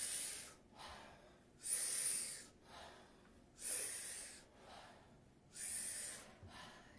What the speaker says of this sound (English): we're going to do the Wim Hof breath. Powerful inhale, soft exhale.